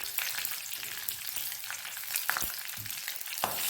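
Mustard seeds and green chillies fry in hot oil, giving a dense, even sizzle with scattered sharp pops and crackles throughout.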